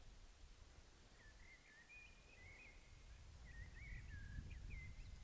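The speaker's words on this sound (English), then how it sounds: "You hear the birds, great." Small birds sing faintly in a forest at sunset, with quiet warbling phrases in the middle and toward the end over soft rustling and low background rumble.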